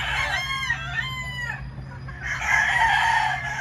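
Roosters crow on Rancho El Tamarindo, two or three long wavering calls in quick succession, loud and near, over a low steady hum.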